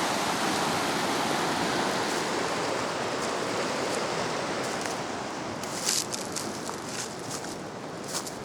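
A small stream of water runs under an exposed tree root, a steady close rushing hiss that carries on unbroken, with a few faint knocks near the end.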